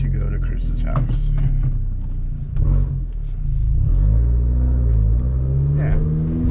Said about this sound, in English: The car is kind of loud.